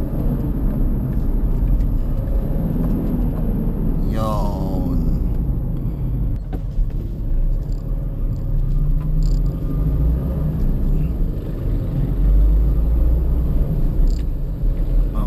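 A car engine holds a constant loud hum while downshifting from fourth to third gear with a rev-match, showing a brief pitch rise and fall midway.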